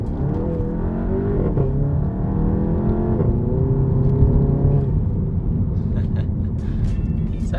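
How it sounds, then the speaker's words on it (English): A Volkswagen GTI with a Unitronic intake and stock catback exhaust drones steadily as it drives, turbo whoosh and intake noise rising and falling with revs, close and continuous with no one speaking. "The turbo is way louder."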